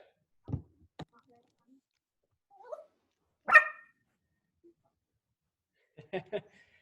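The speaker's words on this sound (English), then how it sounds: "Your dog sounds excited." A dog gives a few scattered, excited barks and a short high whine, with brief quiet gaps between the outbursts.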